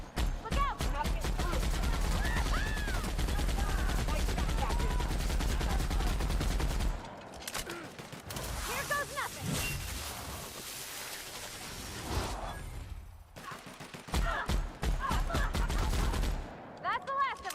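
Spinning-up gun firing rapidly in The Outer Worlds: Peril on Gorgon, loud dense bursts for about seven seconds, then scattered shots and clatter with a voice talking, and further loud bursts near the end.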